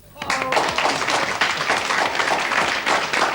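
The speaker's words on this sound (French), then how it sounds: "je voudrais qu'on applaudisse mes petits poissons" Studio audience of a 1980s French TV game show breaking into applause, a sudden burst of clapping that stays full and steady, with a voice talking faintly over it at the start.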